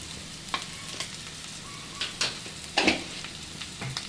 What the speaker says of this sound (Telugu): ఇప్పుడు ఇవన్నీ కూడా బాగా కలిసేలాగా వేయించుకోవాలి.